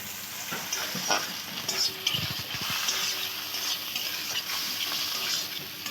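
Turmeric and chili spices sizzle in a pan for egg curry while a utensil stirs them. A dense, continuous frying hiss carries a few louder scraping strokes near the middle, close and with no talk.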